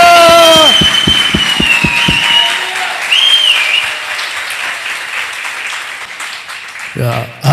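A church congregation claps with both hands raised, starting in a burst of rhythmic claps that fades into scattered applause under a voice calling out loudly, then a brief noisy swell at the end.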